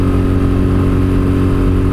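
Royal Enfield motorcycle ridden at nearly full throttle past cornfields, picked up by an in-helmet mic as a loud, steady, thumping engine note with constant rumble.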